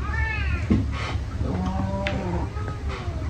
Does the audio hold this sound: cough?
no